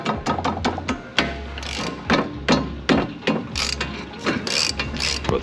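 A hand ratchet loosens the top bolt of a cheap coilover strut, clicking in quick repeated bursts of strokes with short pauses between, close and clear without talk.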